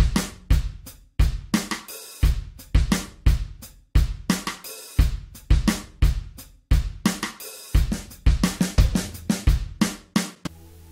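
A punchy, steady drum beat of kicks, snares and crisp hi-hats from an R&B hip hop sample loops evenly, loud and upfront with no other sounds.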